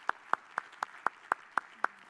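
Eight evenly spaced sharp hand claps from a conference audience after a transport-corridor panel discussion, each a crisp separate slap rather than a full wash of applause.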